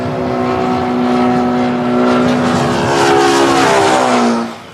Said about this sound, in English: The plane produces sound waves.